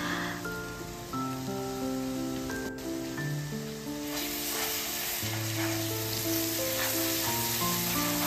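Ground coriander, cumin, Kashmiri red chili and turmeric fry in hot oil in a pan, giving a steady close sizzle with occasional stirring scrapes, alone with no talk.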